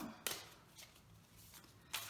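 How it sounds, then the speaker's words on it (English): Tarot cards being shuffled by hand, quiet riffling bursts that come in a few short, separate flurries with soft gaps between, close and faint with no talking. "I take the cards and I shuffle them whatever way I feel like shuffling them"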